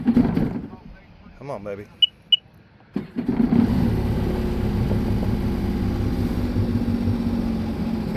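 A Sea-Doo RXT personal watercraft engine cranks briefly and fires, then settles into a steady, loud, rumbling idle that fills the rest of the moment, with a short spoken line just before it starts.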